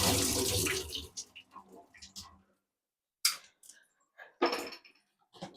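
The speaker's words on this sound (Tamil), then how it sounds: "தண்ணி ஊற்றிக்கலாம்." Water gushes from a tap for about a second, then cuts off, followed by light clinks and small handling noises nearby.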